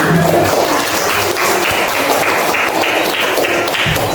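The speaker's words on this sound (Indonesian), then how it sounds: "Berikan tepuk tangan." A classroom of students claps for a group that has just presented, a loud continuous patter of many hands close by that stays even from start to finish.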